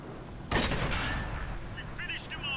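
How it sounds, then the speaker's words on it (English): A tank cannon fires in the World of Tanks console game, a single sudden loud blast followed by a rumbling decay and faint game noise. "Ready to fire on target."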